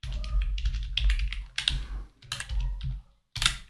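Fast typing on a computer keyboard while entering data into an Excel spreadsheet, dense close key clicks in bursts with a short pause near the end.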